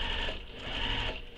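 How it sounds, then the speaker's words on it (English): A sewing machine stitches fabric for a crossbody bag, backstitching with a fast, steady mechanical whir that stays close and continuous and briefly dips in the middle. "So I backstitched there just for some extra security, and now I'm backstitching here."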